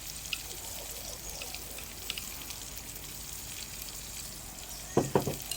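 Garlic and ginger fry in hot oil with a steady, fairly quiet hiss throughout, while a few sharp clinks from a spoon or utensil come near the end.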